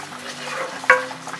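A spoon stirs rice, bacon and water together in a cooking pot. It makes a soft, brief scrape with one sharp clink against the pot partway through, and the stir is fairly close.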